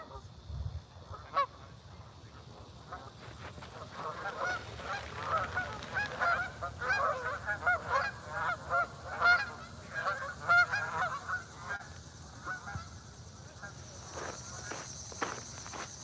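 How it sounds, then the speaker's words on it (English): A flock of geese honks at a park, scattered calls overlapping in bursts at moderate distance over a quiet outdoor background with faint insects. "a ton of geese over here"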